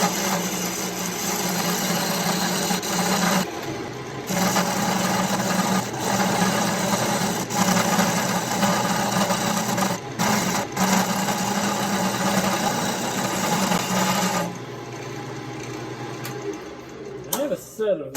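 Wood lathe spinning a log blank being shaped into an Elder Wand, a steady loud motor whine with a tool scraping the wood, running continuously and dipping briefly before winding down near the end, with talk over it.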